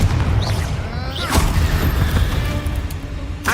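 A Confringo blast spell goes off in the Hogwarts Legacy video game, a loud booming burst with crackling debris, followed by another sharp pop a couple of seconds later.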